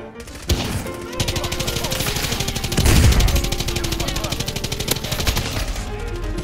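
Rapid automatic gunfire crackles in Call of Duty Modern Warfare as dense, fast-repeating shots that run almost continuously over a steady backing sound, with one heavier blast in the middle.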